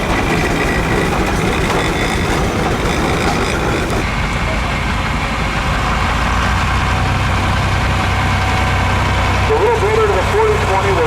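A 1971 John Deere 4020 tractor of about 70 horsepower idles nearby at an outdoor threshing show, a loud steady low diesel rumble with a shift in tone partway through and faint background activity.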